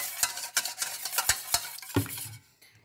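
A mixture being stirred in a pan while cooking, with close, sharp scraping strokes of a utensil against the pan at an uneven rhythm over a faint sizzle, fading out at the end.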